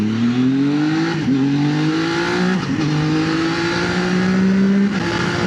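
A Zontes 703F motorcycle engine on a test ride, droning loud and close with rising revs through several gear changes, each shift marked by a short dip before the pitch climbs again.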